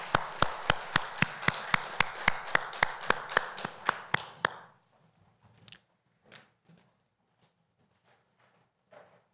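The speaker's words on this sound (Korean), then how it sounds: "하나님께 영광의 박수 드립시다." A church congregation claps together in a steady, rhythmic beat for about four seconds, the sharp loud claps ending abruptly and followed by a few faint scattered taps and rustles in a quiet room.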